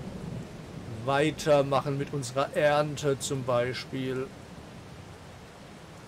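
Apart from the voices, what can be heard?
rain and thunder in the video game Farming Simulator 22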